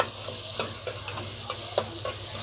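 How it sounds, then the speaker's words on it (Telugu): Onions frying in a pan until golden brown for a liver curry, a steady soft sizzle with a few light stirring scrapes and clicks, close and continuous with no talk. "గోల్డెన్ బ్రౌన్ కలర్ వచ్చేస్తుంది ఆనియన్స్"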